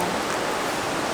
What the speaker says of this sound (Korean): 약간 조금 빗소리가 들어가더라도 양해 부탁드리겠습니다.